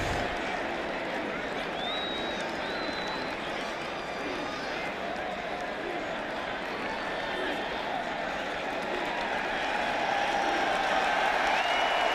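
A homecoming football crowd roars steadily in a stadium during a West Virginia versus Baylor game in Morgantown, a dense sustained cheer and applause that swells slightly toward the end, with a commentator's voice faintly under it.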